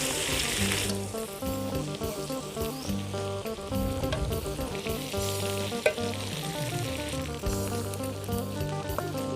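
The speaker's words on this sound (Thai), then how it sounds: "พอปลาหมึกสุกเราก็ใส่กระเทียมลงไปนะคะ" Squid and garlic frying together in a pan, a loud continuous sizzle with crackling and stirring scrapes running throughout, no talking.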